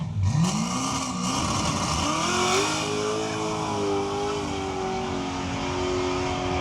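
A car engine revs up and accelerates alongside a Tesla at a car cruise, pitch climbing steadily as it pulls away, loud and close with a steady drone throughout.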